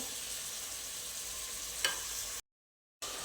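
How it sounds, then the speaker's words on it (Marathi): Dal palak khichdi of rice, lentils and spinach being mixed in a hot pan gives a continuous soft sizzle with scraping stirs, one brief clatter, then a short silent gap before the sizzling resumes. "आता हे छान असं मिक्स करून घ्यायचं सगळं"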